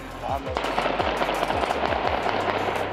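Gunshots fired at protesters crack out in a quick irregular burst of about half a dozen sharp reports over a noisy crowd background, with voices faintly audible in the mix.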